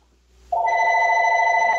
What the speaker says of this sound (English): We can ignore the phone. Don't worry about the phone.